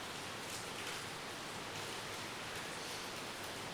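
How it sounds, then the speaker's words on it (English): Steady, dense rain hisses evenly throughout, a constant broadband wash with no other distinct sounds. "It's raining."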